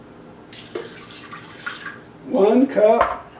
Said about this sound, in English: So, first thing to do for this recipe is to put in the water.